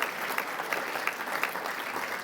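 Audience applause at a Hall of Fame induction speech, steady dense clapping from a large crowd with a few louder claps standing out, no speech over it.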